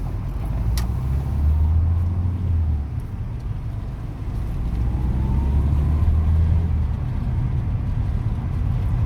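A car idles low and steady at a junction, then its engine rises as it pulls away and turns right, a continuous near rumble with no talk.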